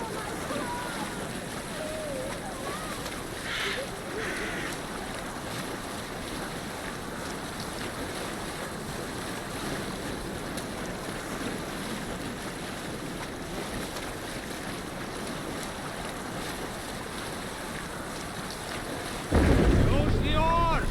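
A Viking longship is rowed with oars in Assassin's Creed Valhalla, heard as a continuous wash of water, waves and wind around the boat, with game voices talking over it.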